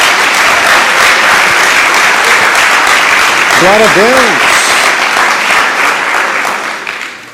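Church congregation claps loudly and continuously during a worship service, the applause dense and sustained as a preacher speaks over it and a voice briefly rises mid-way before the clapping fades out.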